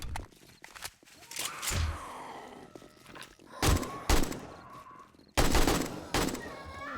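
Gunfire in the survival game 7 Days to Die: several loud, sharp shots ring out separately over a few seconds, with quiet gaps between them and a little talk in the background.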